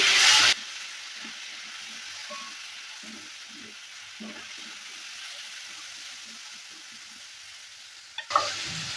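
Jackfruit seeds frying with turmeric and chilli powder in a pan give a quiet low sizzle with scattered soft stirring scrapes, framed by louder hissing bursts at the start and end.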